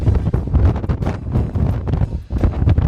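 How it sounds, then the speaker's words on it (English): Strong gusts roar and buffet the microphone continuously, a heavy, rumbling blast of wind with no pause throughout. "this is why it's so windy."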